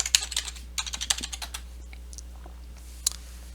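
Short bursts of typing on a computer keyboard, close and crisp with quick irregular key clicks, a few faster runs and then a lone keystroke near the end, over a steady low hum.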